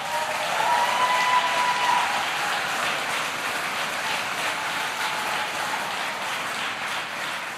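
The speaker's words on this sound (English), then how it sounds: "They deserve a round of applause." Sustained applause from a gathered crowd of Lockheed Martin workers at the Alabama plant that builds Javelin missiles, steady and dense throughout with a faint whistle near the start.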